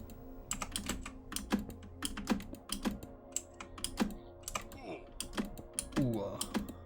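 Computer keyboard typing, a steady run of sharp key clicks with some louder, heavier strikes, close and fairly loud, with a few short vocal sounds mixed in.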